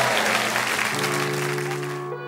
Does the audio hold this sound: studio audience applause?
yes